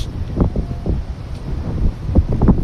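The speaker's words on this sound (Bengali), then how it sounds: "এত বাতাস।" Strong wind blusters across a rooftop, loud and close, with rough buffeting noise on the microphone and some rustling throughout.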